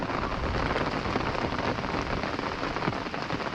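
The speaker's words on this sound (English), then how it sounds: "It's given pretty much rain every hour of the day today." Steady rain falling on the bank of a river while fishing, a dense, even hiss of drops on surfaces lasting throughout without a break.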